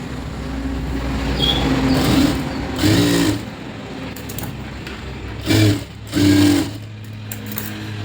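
An electric sewing machine stitches a blouse in three short loud bursts of whirring needle motion separated by pauses, over a low steady background hum, with no voices.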